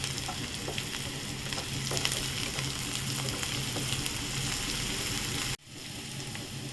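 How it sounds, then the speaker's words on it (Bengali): Chopped onion with freshly added chopped green chillies sizzling steadily in a hot pan, a dense continuous crackle close by, briefly cut off near the end before resuming slightly softer. "পেঁয়াজটা ভাজা ভাজা হয়ে এসেছে, এবারে কুচিয়ে রাখা লঙ্কাগুলো এর মধ্যে দিয়ে দিলাম"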